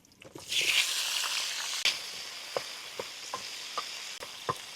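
Tomatoes hit a hot pan for pasta and burst into a loud hiss, which settles into a steady sizzle broken by a regular series of soft scrapes and taps as a spoon stirs them.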